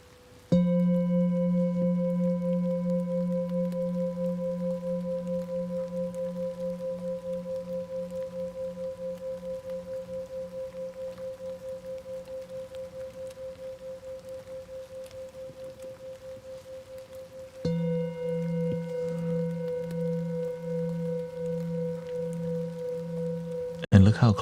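Singing bowls ring in a 432 Hz sound healing session, recorded close up: a long sustained tone with a steady wobbling pulse slowly decays, then a second strike brings a fresh beating drone.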